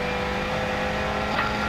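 Ford Fiesta WRC rally car on a stage of the Circuit of Kerry Rally, its engine holding a loud, steady drone at close range with a slight rise near the end.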